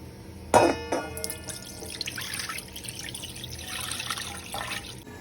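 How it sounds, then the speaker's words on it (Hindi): Excess water being poured off settled starch for Tibetan laphing, with a sharp clink of a vessel near the start, then a steady trickle and splash of liquid running off, close and moderately loud. "अभी मैं धीरे से ये जो एक्स्ट्रा पानी है इसको निकाल दूंगी।"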